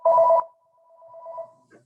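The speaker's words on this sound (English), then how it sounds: "That's a phone ringing." A telephone rings once, a short loud burst followed by a fainter trailing tone, heard indoors with no speech over it.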